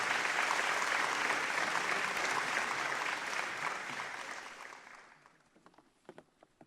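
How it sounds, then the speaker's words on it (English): Big audience applause for two guests at a Mauritius cinema week event, a full roar of clapping for several seconds that fades out, leaving a few scattered last claps. "a big applause for Lady Sarojini Jagnoth and Nandita Das"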